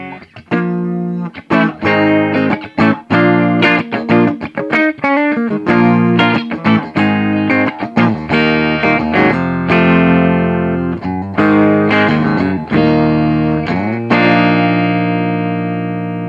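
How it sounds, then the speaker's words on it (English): Thick, warm Granville Freddy electric guitar on both humbucker pickups with mild overdrive from a Granville Copper Drive pedal, strummed chords and quick picked runs ringing out loudly and continuously. "Real nice, open, thick, humbuckery kind of sound."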